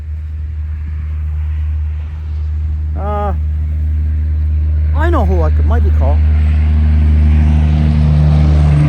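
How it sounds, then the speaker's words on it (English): A big white truck drives by on a road near a rural cabin, its low engine rumble steady at first and then swelling and broadening as it passes, with someone talking over it. "That's the best truck in the world going by. That big white one."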